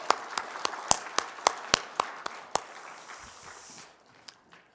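A church congregation claps in a worship service, sharp, evenly spaced claps ringing out in a reverberant hall, about a dozen beats, then fading into a softer scatter and quiet.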